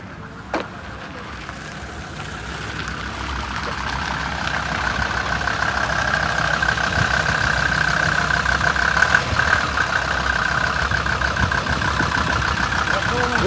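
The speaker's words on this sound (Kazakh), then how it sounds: "мотор саатта иштеп отурат муну" A SsangYong Musso 3-litre engine idles at a used-car market in Talas, giving a steady, even hum that holds for the whole stretch, with faint voices in the background.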